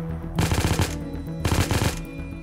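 Rapid automatic gunfire in Unturned, two loud close bursts of about half a second each separated by a short pause, with a steady background hum.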